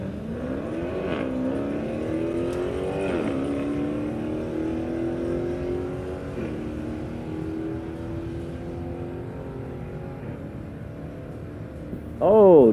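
A 96 Corvette and a 2016 Challenger drag race, engines revving with rising pitch sweeps and gear shifts, the roar fading into the distance before a loud burst returns at the end.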